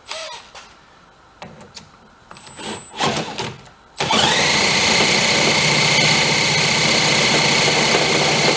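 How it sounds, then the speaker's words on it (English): Old outboard engine on an abandoned 7-foot boat, being started on idle with choke applied; after a few seconds of quiet clicks and handling noises it catches and runs loudly and steadily, a close, continuous buzzing drone. "It's on idle. Let's give it some choke."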